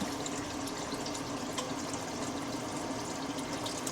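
Water pours steadily into a pot for cooking lunch, a continuous hissing splash at low volume with no talking over it.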